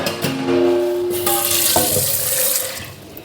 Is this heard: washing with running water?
yes